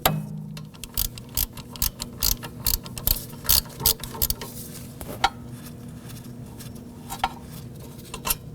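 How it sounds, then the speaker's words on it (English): A ratchet clicks in rapid bursts as it loosens 13mm brake caliper bolts on the rear hub of a 2001-2009 Volvo S60 2.5L. The sharp pawl ticks come close-up and repeat in short runs over a steady background hum. "You can use your ratchet."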